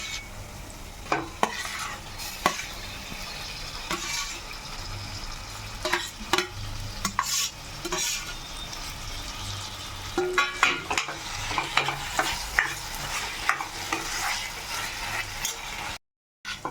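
Roasted eggplant being stirred and mixed with cooked tomato, peas and fenugreek in a pan for baingan bharta, giving a steady soft sizzle broken by repeated scraping strokes throughout, with no talking.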